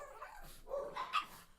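A pet dog indoors gives a few faint, short barks and yips in quick succession, quiet and somewhat distant.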